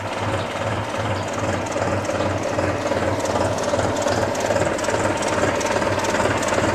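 A New Holland TT3.50 tractor engine runs steadily on a cattle farm, a continuous low throbbing drone at close range with no change in pace.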